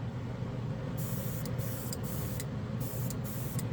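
Chrome spray paint goes on in a light dusting coat as a faint, steady hiss at low level, with short pauses between bursts and no talk.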